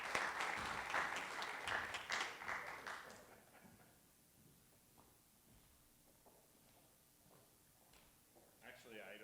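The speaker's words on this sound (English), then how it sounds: "Give him a round of applause, guys." Audience applause for a panel moderator rises loudly in a meeting room, then fades after a few seconds into quiet room noise and a few scattered sounds.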